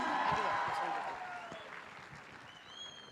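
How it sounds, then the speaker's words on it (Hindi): An audience at a business plan presentation gives a round of applause that starts fairly strong and gradually fades, with faint voices and a few tonal sounds underneath. "एक और जोरदार तालियां"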